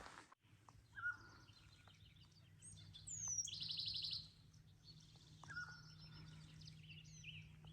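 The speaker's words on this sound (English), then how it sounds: "So many birds." Several birds chirp and tweet outdoors on the Pacific Crest Trail, with scattered short calls and a brighter burst of twittering midway, over a quiet low background hum.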